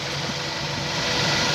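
A Toyota Indus Corolla engine with an abnormal internal noise runs steadily up close, a constant dense mechanical hum with no talk over it.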